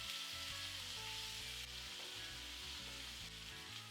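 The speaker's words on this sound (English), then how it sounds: "Add the beef, making sure that it's on one layer." Beef strips browning in a hot pan for a teriyaki stir fry give a steady, continuous sizzle with crackling spatter, loud and close, with no voices.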